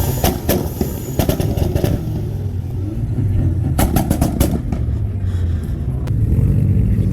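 At a cruise night car meet in Draper, Utah, a car engine roars through a rev battle, with loud, close revs surging in repeated bursts over a rumbling idle.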